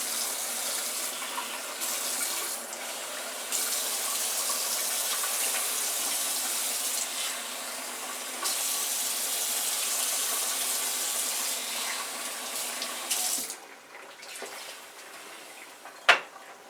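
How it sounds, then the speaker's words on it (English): A kitchen tap runs water into a cooking pot for split pea vegetable soup, a steady loud gushing stream that shifts in tone as the pot fills, then stops near the end with a brief clatter. "add some water to the pot."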